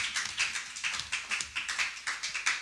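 A church congregation clapping together in worship, a steady rhythmic run of hand claps at moderate loudness, with no voices over it.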